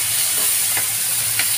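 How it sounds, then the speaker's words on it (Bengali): Chickpeas hitting hot spiced oil and being stirred, a loud dense sizzle and hiss close up, with a couple of faint scrapes of the stirring utensil. "এবার দিয়ে দিচ্ছি ছোলা"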